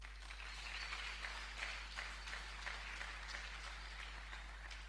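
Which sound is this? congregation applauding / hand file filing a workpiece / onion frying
congregation applauding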